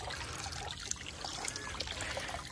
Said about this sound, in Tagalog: Magdagdag lang tayo ng tubig.